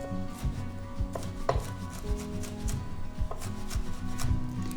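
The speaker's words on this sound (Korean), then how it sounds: "포를 뜬 다음에 얘를 포개 놓고 채를 썰을 거예요." A knife julienning stacked slices for a Korean oyster salad, its tip kept on the cutting board while the blade rocks up and down like a fodder cutter. Steady, rapid chopping taps sound close by, with no talking.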